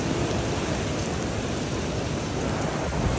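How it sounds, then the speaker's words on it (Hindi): Heavy rain pours steadily during a storm, a dense, close, continuous hiss and patter with no breaks and no voices. "अचानक से इतनी तेज़ बारिश, अंधेरा छा गया है, बारिश ही बारिश भाई साहब, बारिश हो रही है"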